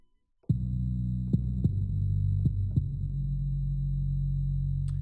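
Deep, sustained sub-bass tone from the OVO Bass 68Z bass module in the VIPSL drum kit, starting abruptly after a brief silence and throbbing steadily with a few soft pulsing accents, loud and alone.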